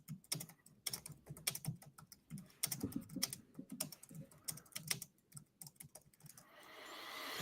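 Rapid typing on a computer keyboard, bursts of close, crisp key clicks with brief pauses between, ending in a rising hiss.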